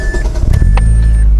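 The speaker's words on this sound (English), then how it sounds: "So I'm gonna go ahead and start the car." A Mazda Protege's engine starts with a short burst of cranking, then settles into a steady low idle while a chime tone sounds inside the car.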